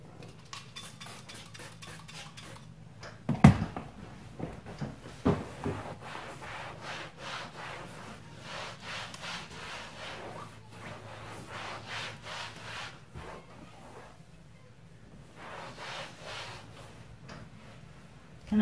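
An old dish rag rubs conditioner into a leather car seat, giving repeated soft scrubbing strokes in a steady back-and-forth rhythm, close and moderately quiet, with a sharp knock partway through.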